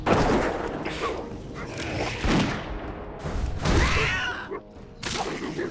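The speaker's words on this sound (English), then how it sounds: "The stock gunfire sounds are really funny." Stock gunfire sound effects from World of Warcraft, a burst of loud, sharp shots and booms repeating several times across the clip, some with a ringing mechanical tail.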